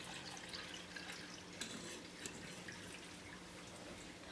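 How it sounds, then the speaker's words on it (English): Cooled Jell-O liquid is poured into a mold for a vintage recipe, giving a faint, steady trickle and drip with a few soft clinks, quiet throughout. "now we can go ahead and pour it into our mold"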